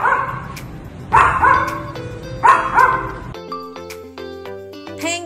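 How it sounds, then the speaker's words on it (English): A toy or picture dog from a children's farm animal lesson barks several times in quick yips, with a bright chiming musical jingle following. No one speaks. "dog."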